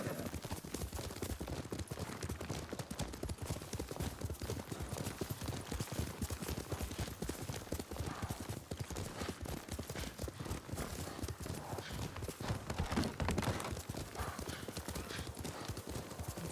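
Horse hooves clip-clop steadily in a fast, even gallop while riding in Ghost of Tsushima, continuous and close throughout, with faint background sound and no clear talk over it.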